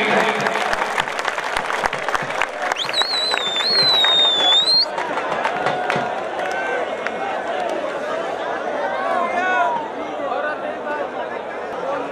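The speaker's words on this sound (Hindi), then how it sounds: "जोरदार तालियां" Loud, dense clapping from a crowd at a kabaddi-style tournament final, continuous for the whole stretch with cheering, chatter and a whistle mixed in.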